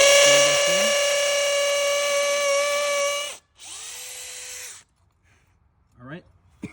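A power drill boring a hole in brick while a downspout is being installed, a loud, close, steady whine for about three seconds, then a second shorter burst that winds down, followed by faint handling noises.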